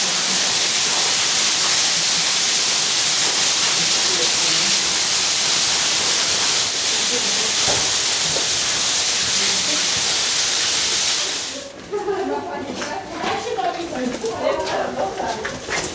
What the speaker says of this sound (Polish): Słychać już wodospad.